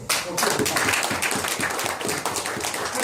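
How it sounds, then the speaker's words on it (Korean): An audience at a first-anniversary ceremony of a history volunteer corps claps in a dense, steady patter of many hands for the full few seconds. "스스로 훌륭하다 박수 한번 주십시오."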